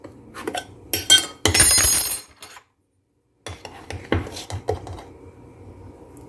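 Sugar, baking powder and other ingredients being mixed in a bowl, heard as close, loud clinking and scraping of a utensil against the bowl in irregular bursts, with a brief silent gap midway before the mixing resumes.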